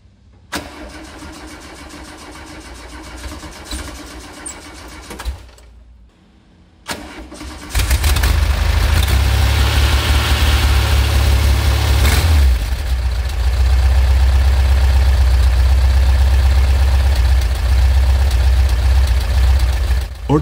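A Volkswagen T2 with the Type 4 engine, unstarted for three months, cranks briefly, pauses, then catches quickly and settles into a loud, steady idle that continues close-up to the end.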